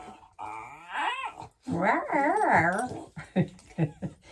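A dog makes odd whining, yodeling vocalizations close by, rising and falling in pitch, followed by a few short yips and grunts.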